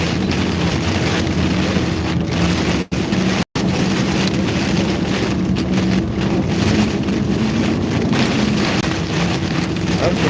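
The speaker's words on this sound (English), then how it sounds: "Look at that wind blowing that rain across the road." Strong wind driving rain across a road in a severe thunderstorm, a steady loud roaring wash with buffeting, broken by two brief dropouts early on.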